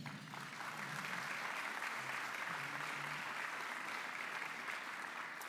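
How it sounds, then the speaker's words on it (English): An audience at a Little Rock real estate update event applauds sponsors, a steady wash of many hands clapping at moderate distance that holds evenly throughout. "Please give them a big round of applause."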